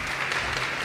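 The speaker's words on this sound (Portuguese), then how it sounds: "salva de palmas para eles" Applause for guests being welcomed on stage at an industry panel event, a steady wash of many hands clapping, fairly soft and continuous through the whole moment with no talk over it.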